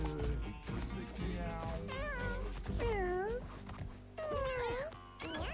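Cartoonish kittens meow repeatedly in the video game Mewgenics, several drawn-out mews over steady game music, fairly quiet overall.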